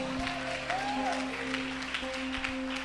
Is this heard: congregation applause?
yes